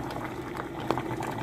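A pot of tamarind-leaf dal with turmeric and salt at a rolling boil, a continuous close bubbling and gurgling with one brief louder blip, no talking.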